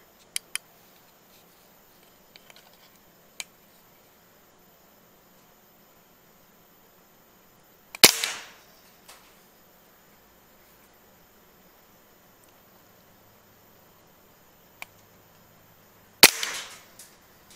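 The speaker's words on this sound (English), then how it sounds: "I shot twice anyway." Two sharp gunshots ring out about eight seconds apart during rat shooting, each one loud and close with a short decay. A few faint clicks sit in a quiet background between them.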